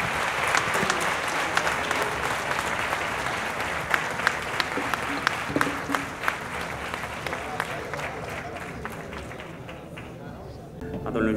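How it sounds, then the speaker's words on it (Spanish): Audience at a local sports awards event gives warm applause to the award winners, a long run of dense clapping with distinct sharp claps standing out, fading away near the end. "Y vamos a darle un caluroso aplauso a todos los galardonados."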